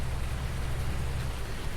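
Rain in the farming game Farming Simulator 19, a steady dense hiss of rainfall with a low rumbling undertone, even and unbroken, quiet and without speech.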